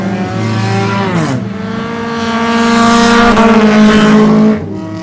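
Three race cars dueling for fifth place in a late-season short-track race, loud engine drone with rising and falling harmonics as they rev and shift, continuous and close with no talk.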